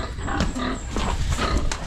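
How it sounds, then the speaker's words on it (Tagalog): Pigs and sows on a farm, with close, overlapping grunts and squeals that go on steadily against noisy surroundings. "Maraming baboy dito."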